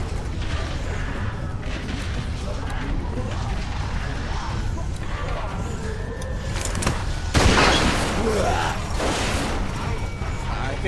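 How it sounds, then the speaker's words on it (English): Gunshots and heavy booms in The Walking Dead game, a loud blast standing out amid continuous dense action noise and shouting voices. "Fire the fucking gun!"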